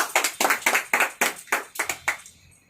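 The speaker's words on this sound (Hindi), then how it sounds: "जोरदार तालियों से बधाई करते हैं उनको।" A small group claps at a celebration program in Surat, with about nine distinct, evenly spaced claps close by that fade out at the end.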